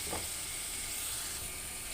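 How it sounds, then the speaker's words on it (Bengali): Spices, dried kechki fish and tomato frying in a pan give a steady, soft sizzle and steamy hiss that continues without break, with no one talking. "সব মশলা দেওয়া হয়েছে, মশলাটা এখন কষানো হচ্ছে।"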